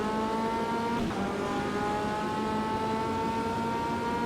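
A light prototype race car with a 2-litre rear-mounted engine holds a steady, loud, buzzing drone in third gear around Brands Hatch in Automobilista, the pitch wavering slightly with a brief dip near one second.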